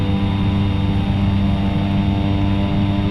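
A small airplane engine running at full power on the takeoff roll, a loud, steady droning hum with a constant tone throughout and no voices.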